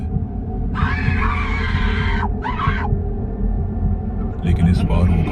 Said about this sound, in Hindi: औरत चीखती है